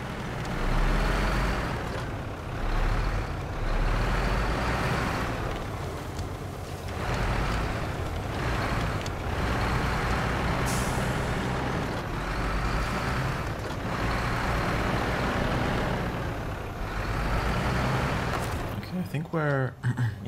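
A heavy truck reverses in the video game SnowRunner, its loud diesel engine rumbling in repeated surges that rise and fall for about twenty seconds.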